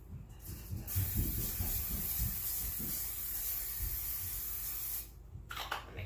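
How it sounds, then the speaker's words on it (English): Cooking oil sprayed from a can onto a cookie sheet: one continuous close aerosol hiss of about four seconds, with a low rumble under it, ending abruptly. "I take a cookie sheet and we're going to spray it with some oil."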